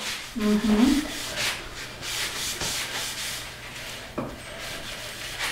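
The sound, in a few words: buffing out a finish on a wooden vinyl record display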